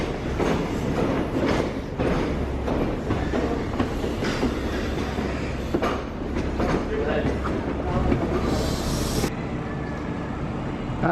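A train from London Paddington pulls into Worcester station, a continuous close rumble with clattering wheels and rail noise filling the whole stretch, with some voices faintly in the background.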